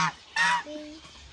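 Geese drinking water give a few short nasal honks close by, two quick loud calls followed by a softer lower one.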